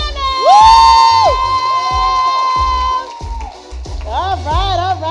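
Town hall audience for a youth vaccination event cheering loudly for a pianist, with high whoops and shouts over a steady low beat, fading briefly before another burst of whooping.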